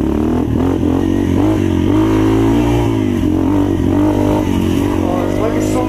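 A modded 2016 Yamaha TTR230 dirt bike, regeared and rejetted, runs loud and continuous on a wet trail with the engine rising and falling in pitch, and a rider's voice is heard over it.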